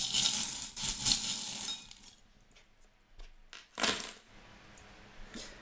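Small metal charms shuffled by hand for a divination reading, bright jangling clinks in two bursts with a quieter pause between, close up and loud, with no talking over them.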